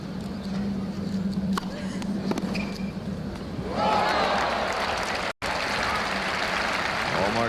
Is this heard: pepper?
no